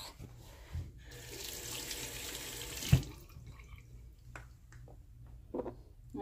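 Dentures are rinsed under a running bathroom tap, with water splashing steadily for a few seconds, a clunk partway through, then quieter drips and handling sounds; close and moderately quiet, no talking.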